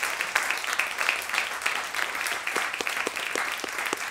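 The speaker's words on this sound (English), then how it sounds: "I'd like to just have a massive round of applause" An audience at a student presidential candidates' question time gives a round of applause: a moderately loud, even patter of many hands with sharper individual claps poking through, sustained throughout.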